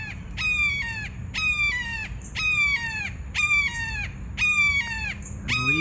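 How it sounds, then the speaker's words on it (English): A hawk calling near a carport, six evenly spaced, harsh descending cries repeating about once a second, loud and close over a low background rumble. "I believe that is a hawk."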